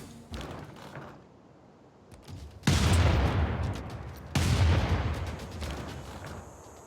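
A siege bombard in the strategy game Civilization 6 fires two heavy booming blasts a couple of seconds apart, each with a long rumbling decay, after quieter scattered thuds.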